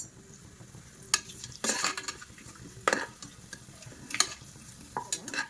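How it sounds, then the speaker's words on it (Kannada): Whole spices dropped into hot oil for bread palav with peas, carrots and knol khol, a soft steady sizzle broken by several sharp scrapes and clinks of a spoon against the pan, close and with no talking. "ಇದಕ್ಕೆ ಕೊಟ್ಟಿರುವಂಥ ಮಸಾಲೆ ಐಟಮ್ಸ್ನ ಹಾಕ್ಕೋಬೇಕು."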